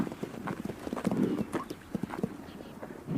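Several horses' hooves clip-clop on the ground in a steady, overlapping rhythm at moderate loudness, with an occasional faint whinny.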